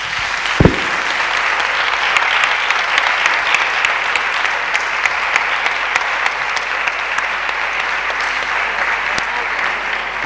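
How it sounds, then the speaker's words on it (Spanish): Conference audience applauding, a loud and even wash of many hands clapping that carries on for around ten seconds, with a brief low thump near the start. "gran aplauso."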